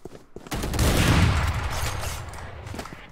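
A burst of Valorant gunfire in a round with the spike: rapid close shots blur into a loud sustained volley, and sharp single cracks follow as it trails off.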